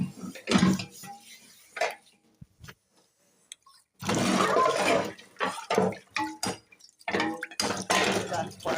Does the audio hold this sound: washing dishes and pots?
yes